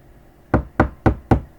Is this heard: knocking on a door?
yes